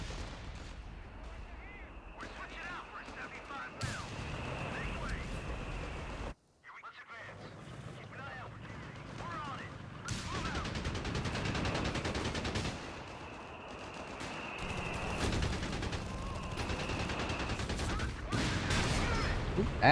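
Battle gunfire in the strategy game Company of Heroes, including an anti-tank gun: booming shots and machine-gun bursts rise and fall over steady wind-like noise, with a brief drop to silence partway through and someone talking at times.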